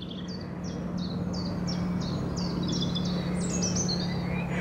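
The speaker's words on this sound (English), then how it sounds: "All the birds are singing" Several birds, including robins, sing outdoors along a country lane in spring, repeated bright chirping phrases over a steady low hum, continuous and fairly close.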